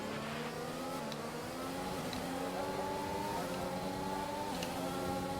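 Formula 1 car engines in the F1 2021 video game whine at high revs, with a Mercedes-powered and a Renault-powered car running side by side, the steady layered engine tones climbing gradually through a gear under constant droning noise.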